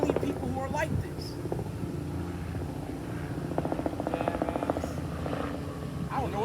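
Helicopter flying overhead near a hospital area, a steady low rotor and engine rumble with wind noise, while people talk nearby over it.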